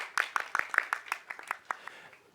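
At a startup pitching event, an audience claps for the five presenting teams. The applause is faint and scattered, with individual claps clearly separate, and it tapers off within a couple of seconds.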